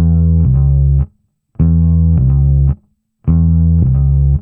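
An electric bass guitar plays a repeating 12-bar blues figure with a quick hammer-on. Three loud, close phrases of low notes are separated by short gaps, with nothing else in the background.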